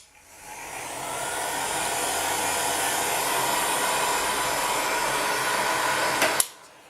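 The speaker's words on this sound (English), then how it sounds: "bring over your heat gun, switch it to your hottest setting and lowest wind speed" A heat gun on its hottest setting and lowest fan speed blows over liquid clay on a pendant, giving a steady close airy whoosh that ramps up, holds for several seconds, then clicks off.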